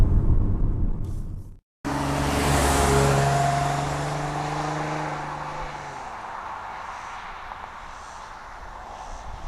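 A 2010 Chevrolet Camaro drives on a road. After a brief cut, its engine rises into a loud, smooth revving pull that shifts down and settles into a fainter steady road drone.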